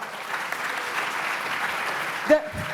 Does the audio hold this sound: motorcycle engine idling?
no